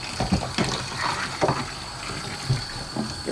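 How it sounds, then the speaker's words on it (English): Dirty aquarium water pours and splashes out of a bucket while a 75-gallon display tank is being cleaned, a close gushing stream with a few slosh bursts, alone. "Empty out the bucket."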